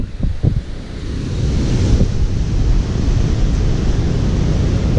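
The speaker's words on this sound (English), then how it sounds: "it's very windy still, kind of crazy out" Strong wind in the aftermath of Hurricane Irma buffets the microphone outdoors, a loud, continuous low roar with gusty rumbling and no voices.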